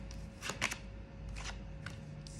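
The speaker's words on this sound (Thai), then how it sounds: "ขออนุญาตวางไพ่ก่อน" Tarot cards laid out on a table make soft, quiet slaps and brief shuffling flicks, a few light taps spread across a short moment.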